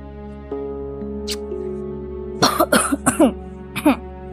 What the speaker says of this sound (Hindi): लग गई ना खांसी?